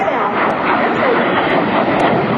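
Aerobatic airshow airplane at the 2006 AirPower Over Hampton Roads show, pulling up into a vertical climb after a low pass; a loud, steady engine roar fills the whole stretch without letup.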